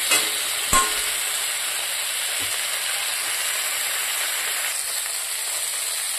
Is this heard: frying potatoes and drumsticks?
yes